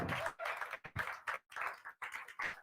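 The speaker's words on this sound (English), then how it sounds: "I give Dan a massive round of applause." Audience applause at a live final of a talent show: scattered bursts of clapping in several short pulses, fairly faint and close, with no talk over it.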